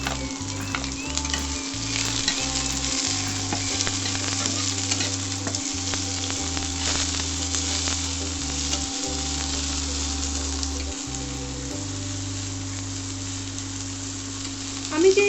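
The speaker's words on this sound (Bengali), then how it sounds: "যেটা আমি একটু সাঁতলে নিচ্ছি সব মশলাগুলো" Chopped onions, green chili, ginger and garlic sauté in a pan, giving a loud, continuous sizzle with frequent scraping stirs close by, and no one speaking over it.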